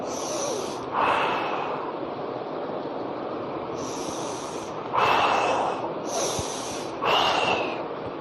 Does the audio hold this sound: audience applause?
no